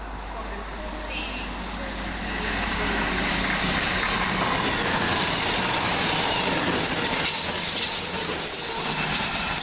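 Train passing through Smethwick Galton Bridge station, a service from Bristol Temple Meads to Manchester Piccadilly, rolling past with a steady broadband roar that swells after a couple of seconds and holds loud to the end, with faint station announcements or voices in the background.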